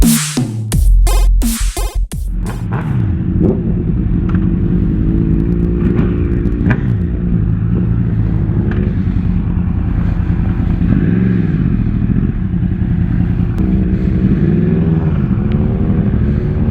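Motorcycle out on a ride, its engine droning steadily and loud up close with audible revving and accelerating swells throughout, a few sharp bursts at the start.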